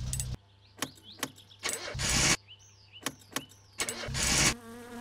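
A car engine in the video game My Summer Car cranking repeatedly in short starter bursts, with a few longer churning attempts and brief catches between them, loud and close with no talking.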